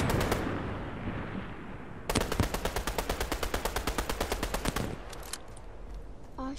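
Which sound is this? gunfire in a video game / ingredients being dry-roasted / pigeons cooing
gunfire in a video game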